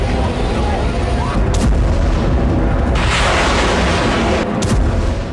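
Rocket and artillery strikes in Gaza, a loud continuous barrage of deep booms and rumbling blasts with several sharp bursts standing out, heard from a distance and carrying on without pause.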